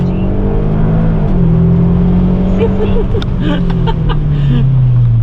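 A SEAT Leon Cupra 300 ST estate's engine roars and climbs steadily in pitch as the car launches hard, loud and close, with a brief shout partway through.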